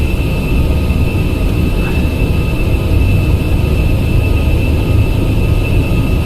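Airbus A320 jet engines spooling at takeoff thrust in the FSLabs A320X simulator on Prepar3D, a loud, steady, unbroken roar with a thin high whine running through it.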